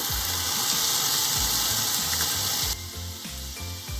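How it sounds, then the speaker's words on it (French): Armagnac splashed into a hot frying pan to deglaze seitan for a Christmas dish gives a loud, steady close-up hiss and sizzle that drops abruptly to a quieter simmer near the end. "je vais déglacer à l'armagnac"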